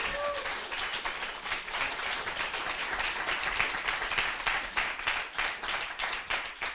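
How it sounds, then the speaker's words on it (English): An audience at a magic lecture gives a round of applause, steady overlapping clapping at moderate distance, fairly quiet overall. "everyone's going to give you a huge round of applause"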